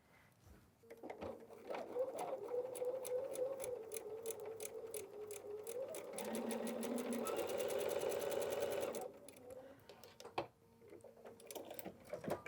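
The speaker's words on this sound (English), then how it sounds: "Flip it over, sew it on." A sewing machine runs steadily for several seconds, stitching quilting fabric for a wall hanging, its rapid needle clatter close and even, speeding up briefly near the end before stopping.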